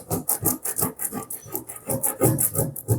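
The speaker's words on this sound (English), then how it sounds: "So a good scrape will do it, no harm." Rhythmic scraping of a transfer off wooden shabby chic furniture, close and fairly loud, with quick repeated back-and-forth rasping strokes in an uneven steady pattern.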